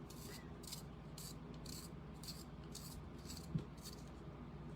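A Farmasi Express eyeliner pencil in black is sharpened with about eight quick, evenly spaced scraping twists, crisp and close against a quiet background, with one small knock near the end.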